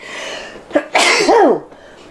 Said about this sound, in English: That was a powerful sneeze.